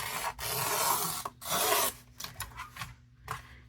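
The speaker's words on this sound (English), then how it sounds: "I should be able to line up with my trimmer exactly where I would like this to cut" A paper trimmer blade slices inkjet transfer paper laid on ribbon, making close, soft rasping scrapes in two main strokes and then a few lighter scratchy drags.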